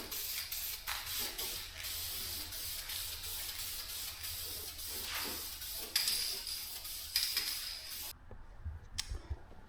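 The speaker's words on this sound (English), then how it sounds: "give this a quick spritz with some black" Black spray paint hisses from a can in a series of close bursts on a 1967 Nova body, some longer and some short spritzes, with a rattle near the end and no talking.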